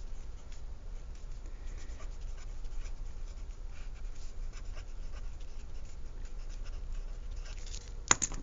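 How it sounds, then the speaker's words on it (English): Pen scratching steadily across paper while a chemistry equation is written out, a continuous soft scribble at close range with a sharp tap near the end and no talk. "Again, I'm going to write this out again."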